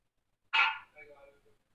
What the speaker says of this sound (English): But Mocha just likes to bark a lot